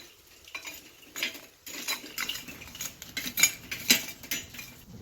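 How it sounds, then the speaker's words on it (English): Charcoal briquettes poured and clattering into the charcoal ring of a Weber Smoky Mountain smoker, a series of irregular metallic rattles and clinks close by, with no talking. "I'm going to first of all remove the barrel here. Fill up with the coals."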